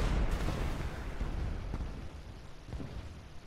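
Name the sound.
Ki-21 bomber kamikaze crash into artillery, War Thunder video game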